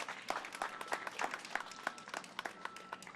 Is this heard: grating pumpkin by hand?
no